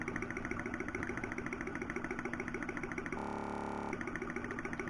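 Horizontal Stirling engine running steadily, its fast, even mechanical beat close and fairly quiet, with a brief change in tone near the end and no talking.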